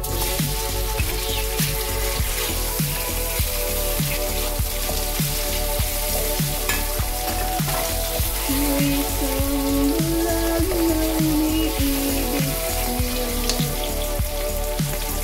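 Garlic fries golden brown in a pan with a constant, close crackling sizzle of popping bursts while soft music plays underneath.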